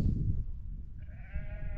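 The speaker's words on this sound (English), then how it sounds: "You can just hear the sheep in the background, that's about it." A single sheep bleats partway through, a wavering, somewhat distant call on a mountainside at Great Gable in the Lake District, set against a low, breezy outdoor rumble with no voices.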